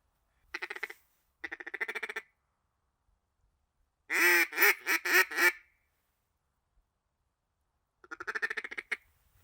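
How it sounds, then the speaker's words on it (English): Mallard ducks in a big flock quack in separate bursts, loud rapid runs of raspy calls with quiet gaps between them, heard clearly with nothing else over them. "Big old flock of like 70 mallards."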